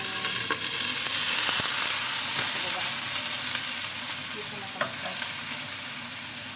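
Fish soup congee ingredients sizzle loudly and steadily in a hot frying pan, with occasional scrapes and taps of stirring, and a brief spoken phrase over it.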